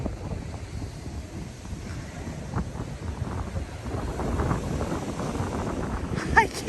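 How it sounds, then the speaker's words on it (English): Strong wind buffets an outdoor microphone along a loop road in Acadia National Park, a steady low rumbling roar across the whole stretch with a brief louder gust near the end. "it is really windy to try to film"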